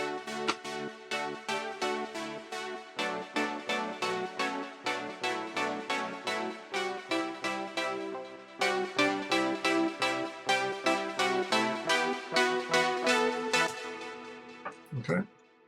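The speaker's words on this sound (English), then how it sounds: "the leads together sound like this" Layered wavetable saw synth leads in Ableton playing a bright, rhythmic pattern of short repeated stabs, loud and alone, ending with a brief swoop at the close.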